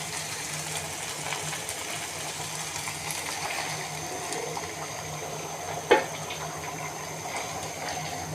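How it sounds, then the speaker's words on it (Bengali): Hot water is poured into tehari rice, a steady rushing, hissing pour that runs for several seconds with one brief clink partway through. "আমি এখানে গরম পানি দিয়ে দিব"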